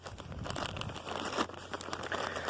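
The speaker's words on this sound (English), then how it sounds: "I just put it in a zippered plastic bag." A zippered plastic bag holding a Sawyer Mini water filter crinkles and rustles close by, continuous crackly handling noise for a couple of seconds with no talking.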